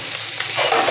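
Green chilies drop into hot oil on a low flame and burst into a loud, close hissing sizzle that swells after a brief stir.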